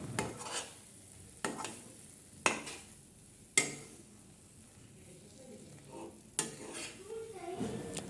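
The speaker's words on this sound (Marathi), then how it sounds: "याला व्यवस्थित मी इथे मिक्स करून घेणार आहे, जेणेकरून लाडू आपल्याला याचे व्यवस्थित बांधता येतील।" A spoon scrapes and knocks against a pan while mixing grape laddu filling, five sharp taps spaced over a quiet low sizzle, close and fairly soft.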